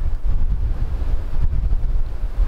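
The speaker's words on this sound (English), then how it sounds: "it's so windy. But the wind is blowing it out" Strong wind buffets an outdoor spot where a ferro rod is being struck, a continuous loud low rumble against the microphone with gusty surges and no speech.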